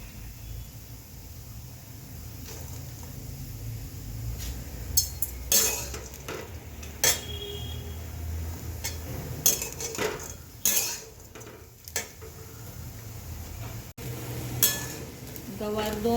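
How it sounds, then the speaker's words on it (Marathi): Cluster beans (gavar) roasting dry in a pan, with repeated metallic scrapes and clinks of a spoon stirring over a steady low hiss, close by and moderately loud, with no talk. "आपण थोडी गवार भाजून घेऊ"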